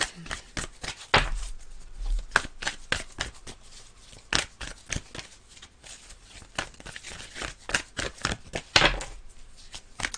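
Tarot cards are handled and drawn in a steady run of close, soft slaps, flicks and rustles, with a few louder snaps among them.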